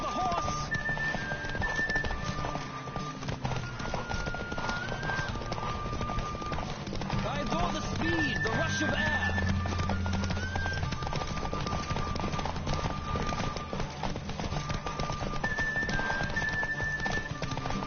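A horse gallops in The Witcher 3 with steady rhythmic clip-clop hoofbeats that run throughout, under game music and character speech.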